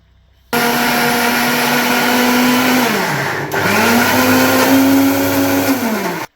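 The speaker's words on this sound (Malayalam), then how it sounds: "തേങ്ങയും ചെറിയ ഉള്ളിയും ജീരകമെല്ലാം ഒതുക്കിയെടുത്തിട്ടുണ്ട്." A mixer grinder crushes coconut, shallots and cumin in loud, steady whirring bursts: it runs, briefly dips and stops around the middle, then starts again and grinds before cutting off, close and with no voices.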